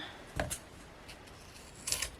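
Two quick snips of scissors cutting through carpet tape, a short crisp cut followed by another after a pause, close and quiet.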